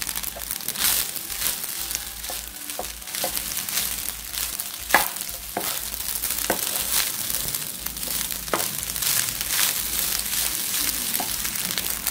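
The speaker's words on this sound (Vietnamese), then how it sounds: "Bây giờ mình bỏ trứng vô nó ướt rồi nè, mình sẽ chiên cho nó khô lại luôn nha." Rice and egg frying in a pan, a steady close sizzle with scraping and stirring clatter throughout, no voices.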